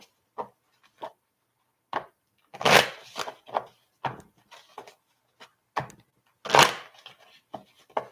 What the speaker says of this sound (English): That was a wonky shuffle.